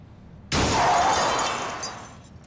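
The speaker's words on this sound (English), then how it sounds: "There was a horrible, tearing sound of metal and glass as the black car crashed into Uncle Monty's Jeep" A car crashing into a Jeep: a sudden loud burst of shattering glass and tearing metal that starts abruptly, holds as a dense crash, then slowly fades, with no voices.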